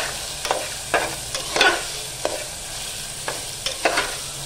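Ginger and garlic sautéing in oil for matar pulao, a soft hiss under repeated scraping stirs of a spatula in a pan, close and without talk.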